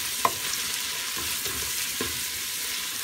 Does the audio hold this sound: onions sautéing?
yes